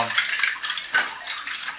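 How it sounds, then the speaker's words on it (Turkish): A stack of dishes is gathered up for washing in a home kitchen. Plates, pots and cutlery clatter and clink close by in several quick bursts, with light water sounds underneath. "Komple bütün bulaşıkları al."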